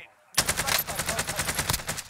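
After a brief quiet moment, a loud burst of rapid automatic gunfire erupts in the video game Warzone, dense cracking shots repeating quickly and close, continuing to the end with no clear talk.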